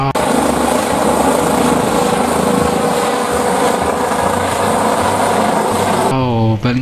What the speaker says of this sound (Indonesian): Di sini ada, wow, helikopter.